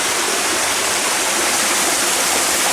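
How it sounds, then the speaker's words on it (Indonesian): Jolotundo waterfall, reached over large boulders in a small river, roars loud and close as a dense, unbroken rush of falling water, with no voices. "sampailah kita di air terjunnya"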